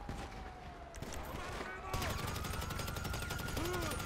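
Rapid bursts of gunfire in a GTA 5 Online match on PS5, a dense crackle of shots running steadily throughout and growing louder midway, with game effects mixed in.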